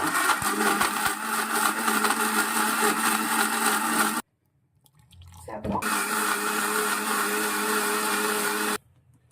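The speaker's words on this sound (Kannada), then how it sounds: "ಮಿಕ್ಸಿ ಸ್ಟಾರ್ಟ್ ಮಾಡ್ತಿದ್ದೀವಿ. ಗ್ರೈಂಡ್ ಆಗ್ತಿದೆ ಮಿಕ್ಸಿ." A mixer grinder whirs loudly for about four seconds, stops briefly, then starts again and grinds steadily before cutting off.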